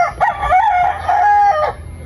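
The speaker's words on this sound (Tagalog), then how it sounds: "ang ingay ng manok" A rooster crows loudly and close up beside a house in rural Mindoro, one long drawn-out call with a rising start and a sustained wavering middle.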